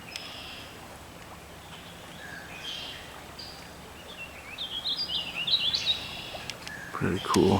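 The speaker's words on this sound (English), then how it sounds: "You hear the birds, all sorts of stuff flying around." Outdoors in a wooded area, small birds chirp and twitter faintly over a soft, hissy ambient background, with the calls growing busier and a little louder toward the end.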